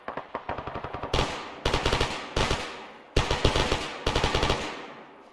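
Automatic weapons fire in a military video game: several loud, close bursts of rapid machine-gun rounds separated by short pauses, with no talking.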